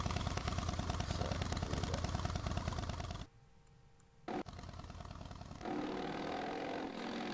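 Inside the Second Life game, a motorcycle engine drones loudly at a steady pitch, then cuts to near silence, gives a brief burst, and comes back at a lower, softer idle.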